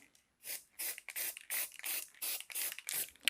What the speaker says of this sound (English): And I'm just going to bring my stencil spray back in.